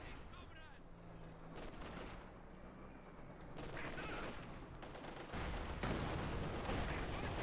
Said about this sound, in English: More shots fired